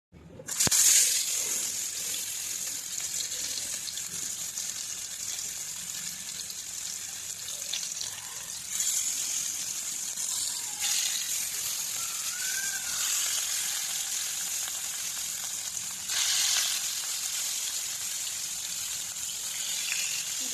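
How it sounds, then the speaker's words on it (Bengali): Spice-coated fish pieces fry in hot oil, with a continuous close hiss that swells into louder sizzling surges at intervals as each piece goes in. "তেল গরম হয়ে গেছে মাছগুলো এবার ছেড়ে দেবো একটা একটা করে"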